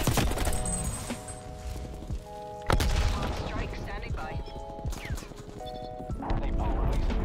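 AK-47 fire in Black Ops Cold War crackles in dense rapid bursts amid game music tones, explosions and a sharp crash, with players talking over the chaotic, loud mix.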